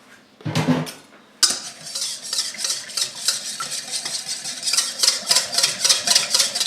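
A utensil clinks and scrapes around a bowl as Worcestershire sauce, salt and pepper are mixed together, making a quick, rhythmic stirring clatter up close after a brief soft thump at the start.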